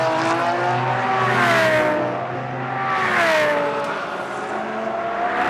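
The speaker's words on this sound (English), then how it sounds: "As rumbling down the back straight comes the Bentley" A Bentley race car thunders down the back straight during a practice session at a Moscow circuit, its engine a loud, steady rumble that swells and shifts pitch as it passes close by.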